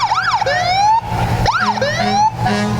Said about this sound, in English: Great to hear those sirens bouncing off the